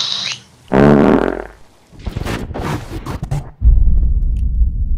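Loud, drawn-out fart noises play over PlayStation voice chat in Back 4 Blood, a long rumbling burst followed by a rapid sputtering series, close and compressed, with no talking.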